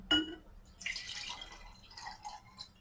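Liquid drips in a lab during the washing of isopropyl benzoate ester. One sharp, close drip opens the clip, followed by softer glassy trickling and splashing sounds.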